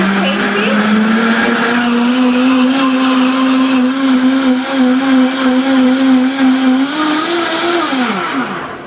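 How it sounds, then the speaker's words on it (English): A strong blender whirs steadily while blending chiles with water for chiles rellenos de queso fresco, a loud continuous motor drone that holds for several seconds, slightly rises in pitch, then winds down near the end. "I have a pretty good blender, so that should do blend fast."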